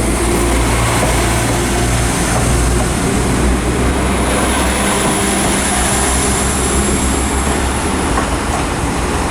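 Northern Ireland Railways train 4017 pulls out of Belfast Great Victoria Street on a Portadown service, a loud, steady rumble of engine and rolling wheels filling the whole stretch with faint squeal and clatter on top.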